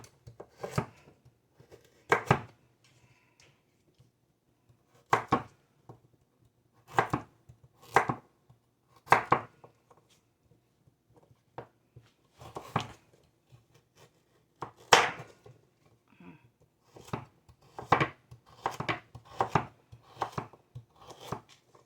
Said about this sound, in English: so now I'm just going to slice them.